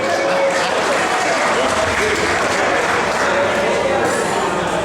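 Audience at a convention bartending contest show applauds steadily and loudly throughout, a dense continuous wash of clapping with some crowd noise and possible voices mixed in.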